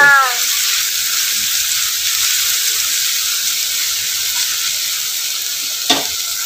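Vegetables sauté in a hot pan with salt for a cheese pasta, a continuous close hiss and sizzle with a brief clatter of tossing near the end.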